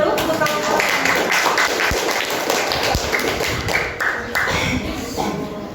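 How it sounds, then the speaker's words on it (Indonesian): A group in a classroom claps for the first presenting team, giving a dense, steady patter of many hands that fills the whole stretch, fairly loud and close, with voices mixed in. "Kita berikan tepuk tangan terlebih dahulu untuk kelompok."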